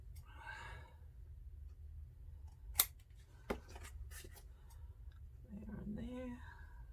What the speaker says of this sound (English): I'm just going to cut it on an angle.